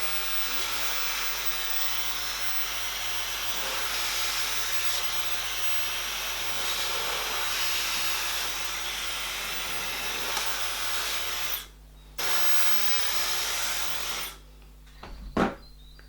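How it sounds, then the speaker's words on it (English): A hair dryer blows steadily and close while short hair is brushed flat, a continuous loud rushing hiss that cuts out briefly twice near the end, without speech. "I will take this brush and blow dry it this way"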